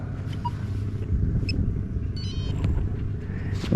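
A continuous low engine rumble from an old van that had sat parked at the edge of a football field, idling and pulling away, heard from a short distance with faint scattered higher noises over it.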